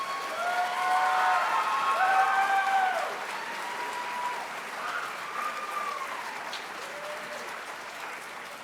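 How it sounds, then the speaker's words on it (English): An audience at a spring 2017 nurse pinning ceremony applauds the nursing graduates, with loud clapping and a few whistles and cheers at first that then settle into a softer, steady round of applause. "How about a round of applause for these nurses?"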